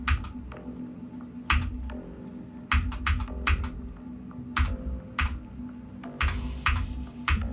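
Fingers tap a computer keyboard in quick, uneven bursts of sharp key clicks, with short pauses between flurries, close up over a low steady hum.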